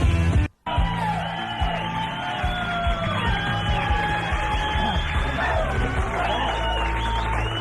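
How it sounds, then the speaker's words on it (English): A large, excited concert crowd roars and yells continuously in an amphitheater at a 1997 show, loud and sustained with whoops and shouts layered throughout, briefly cut off near the start. "You are listening to a totally jazzed crowd in the Market Ryan Amphitheater"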